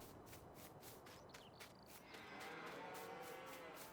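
A lone cow in a field in the video game Stone Valley gives a soft, drawn-out moo partway through, faint and distant beneath a steady rhythmic ambient bed with light ticking.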